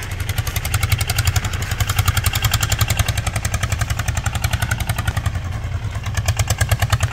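A farm towing vehicle drives through a cassava field at harvest. Its engine chugs with a fast, regular thumping beat and a metallic clatter, loud and close throughout.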